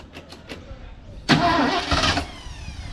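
A Ford P6 LTD rally car with a freshly swapped engine is cranked: a few starter whirs, then the engine catches and runs loudly and roughly, close by.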